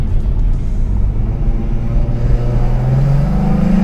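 Lexus IS250 V6 engine and exhaust heard from inside while driving, a loud, deep, steady drone with a rising tone near the end as it pulls.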